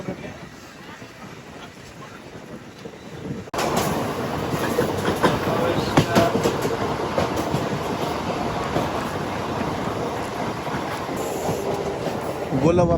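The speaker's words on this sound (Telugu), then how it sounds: "చెన్నై భువనేశ్వర్ బండి వెళ్ళాగా తాయితీగా మన బండిని అయితే తీశారు." A MEMU express train on the Nellore to Vijayawada line pulls out and runs on the rails, a steady loud rumble with rhythmic wheel clatter building after a quiet start.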